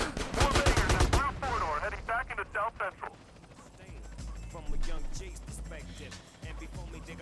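Gunfire rings out in GTA San Andreas as a rapid burst of close shots, followed by scattered further shots under music and game dialogue.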